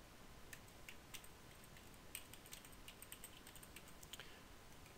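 Faint computer keyboard typing with sparse, irregular key taps under a steady background hiss, no voices.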